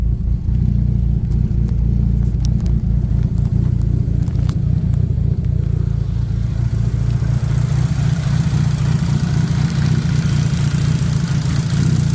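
A Dodge Neon engine idles steadily, heard up close in the engine bay, with loud fuel injectors ticking over a constant low rumble; no one speaks.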